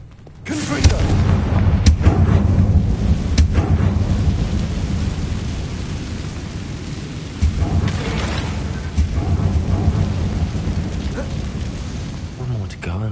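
Confringo fire-blast spell explosions in the Hogwarts Legacy video game: a run of heavy booming blasts with rumbling low-end tails, loud and close, rising in several bursts over a continuous roar while a voice talks.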